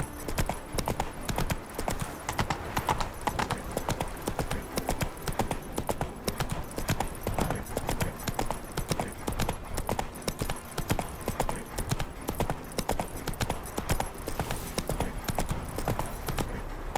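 Roach, Geralt's horse in The Witcher 3 video game, gallops in a steady, loud rhythm of hoofbeats that runs unbroken for the whole stretch, with a faint voice now and then beneath the clatter.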